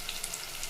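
Chopped tomatoes stirred into frying ginger garlic paste in a pan give a steady, soft sizzling hiss for a brief moment, with no voices.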